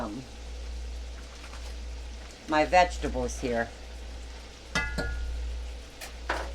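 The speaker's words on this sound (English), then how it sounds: "Start frying it till it gets a good sizzle on it." Faint, steady sizzling of sausage frying in butter in a pan, with a person talking briefly over it and a low background hum.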